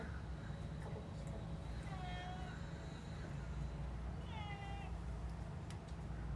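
A cat meows twice in a quiet room, each call a short rising-and-falling cry, close but soft over a low steady background hum.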